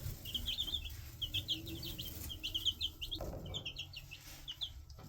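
Young chicks peep in rapid high-pitched bursts, fairly faint and close, over a low background hum with no one speaking.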